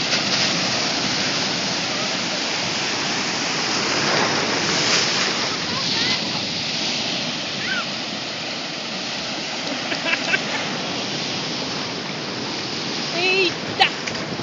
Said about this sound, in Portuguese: Olha, o mar levando tudo.